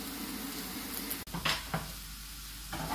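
Onions frying in a pan give a close, steady sizzle through the whole stretch, with a couple of brief stirring scrapes and a short break in the middle, during the cooking of a rabbit liver, kidney and heart stew.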